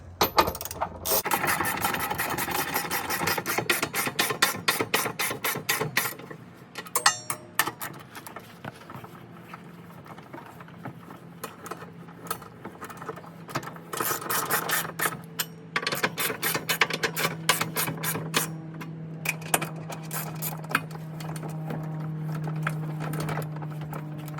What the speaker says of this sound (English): use an extension with the socket and that 1/2-inch ratchet